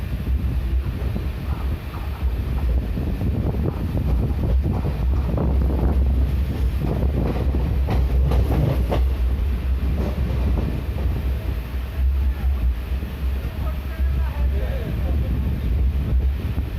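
DEMU passenger train departing New Mal Junction toward Lataguri, a steady rumble of wheels and engine with heavy wind buffeting the microphone throughout.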